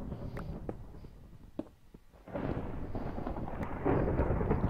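Minecraft Polycraft thunderstorm with a sudden deep thunder roll rising after a quieter stretch of faint clicks, the rumble building louder toward the end, with no speech.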